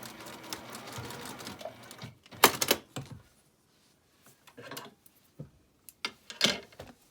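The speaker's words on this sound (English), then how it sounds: "I'm going to quickly sew a little forward and back stitch on the end" A sewing machine stitches forward and back across the end of a patchwork zipper pouch, with short bursts of rapid mechanical clatter separated by quiet pauses, close and clear.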